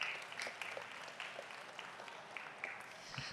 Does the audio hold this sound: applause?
yes